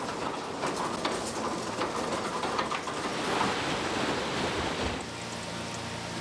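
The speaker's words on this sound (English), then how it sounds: "and they fall into this water flume." Logs tumble into a water flume at a sawmill, giving a steady rushing, splashing wash of water with heavier surges, heard fairly close until the roar drops to a quieter hum near the end.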